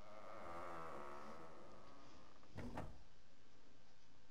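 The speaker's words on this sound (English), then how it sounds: "the door slid heavily shut" A heavy sliding door thuds shut in the video game Zero Escape: 999, a single solid impact near the end after a low rumbling slide, with no voices.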